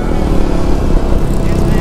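Yamaha Mio 125 scooter-style motorcycle, four years old and in good running condition, riding along a coastal road in Batangas; a steady, loud engine drone with wind rumble continues throughout, with a voice talking over it.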